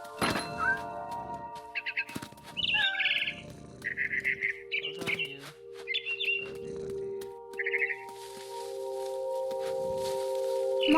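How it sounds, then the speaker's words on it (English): A frightened bird in the video game What Remains of Edith Finch gives a series of short, sharp chirps and tweets, interspersed with soft thumps, over a quiet tonal game background. "I tried to be quiet, but the bird was really scared."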